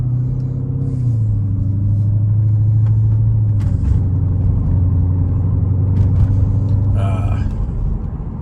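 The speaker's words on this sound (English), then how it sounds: "Feel the car a little bit better now. The acceleration is a little bit better." A 2011 Mercedes SL550 Night Edition convertible on coilovers, heard from inside the cabin as it accelerates: a steady, loud, deep engine drone that climbs slightly, with no talking.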